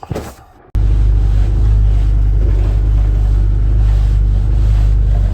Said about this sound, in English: So I cut it with this tool around the edges.